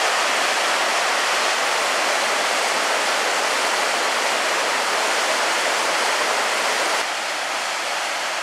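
Ryugu waterfall on a mountain hike in Yamaguchi, heard in the morning: a steady, loud, broadband rush of falling water that fills the whole stretch without a break.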